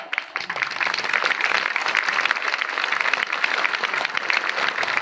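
An audience claps continuously at a devotional gathering, a dense, loud, steady wash of many hands with no break across the whole stretch.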